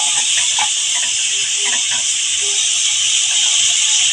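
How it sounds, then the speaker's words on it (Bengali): Shrimp frying in mustard oil, a constant bright sizzle with scattered small pops and crackles, close and uninterrupted, with no talk. "চিংড়ি মাছগুলো ভাজা হয়ে গেছে"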